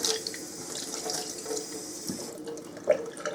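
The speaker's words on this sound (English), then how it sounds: "And then I just give it a rinse under the tap," Rhubarb is rinsed under a running kitchen tap: a steady, close rush of water splashing into the sink that cuts off after about two seconds, leaving faint drips.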